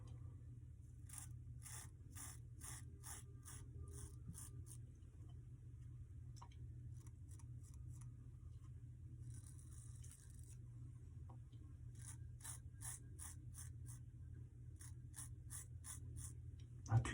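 Faint, rhythmic scraping strokes of a 1912 Gem Junior safety razor with a carbon steel blade against stubble, coming in short bursts of several quick passes with brief pauses between, over a low steady hum.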